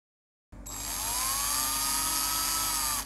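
A power drill boring holes in a water tank so a float unit can be fitted. It starts abruptly and then runs as a steady, high-pitched whine for about two and a half seconds, close up and with no talk.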